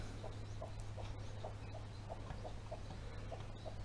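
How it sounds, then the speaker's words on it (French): Soft, rapid clucks from a Pekin bantam hen calling her chicks to feed repeat steadily and faintly beneath a constant hum and broadband background noise. "la poule les appelle pour venir picorer un peu de semoulette"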